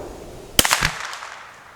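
A single crisp .22 rimfire rifle shot, from a Kidd 1022 or CZ457, cracks out mid-clip at close range, followed by a short fading echo across the range and no talking.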